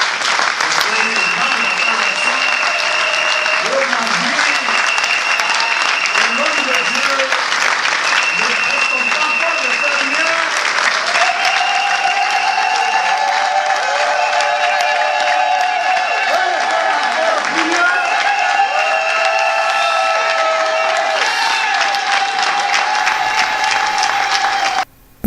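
A church congregation of about 300 applauds and cheers at a pastor's funeral in Bienne, Switzerland, a loud continuous wash of clapping lasting throughout, with voices calling out and melodic singing or shouting layered on top.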